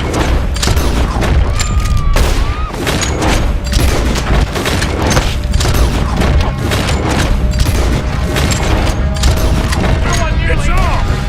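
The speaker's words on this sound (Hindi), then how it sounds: "जैसे ही मैं गोली चलाऊंगा ये लोग भी फायरिंग करने लगेंगे" A shootout in Red Dead Redemption 2, with rapid repeated gunshots and booming impacts firing in dense bursts across the whole stretch, loud and close, with some voices mixed in beneath the gunfire.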